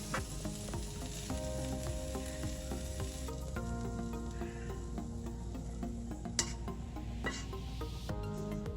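Boneless chicken breast cubes fry in a pan with a continuous dense sizzle, close and even, broken by a couple of brief clicks from stirring.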